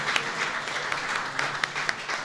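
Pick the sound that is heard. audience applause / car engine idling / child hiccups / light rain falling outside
audience applause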